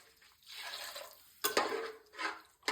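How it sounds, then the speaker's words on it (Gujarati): Water splashes in short bursts into spice masala for khichdi in a cooking pot, three or four close pours with brief gaps between them. "એના અંદર આપણે પાણી એડ કરીશું."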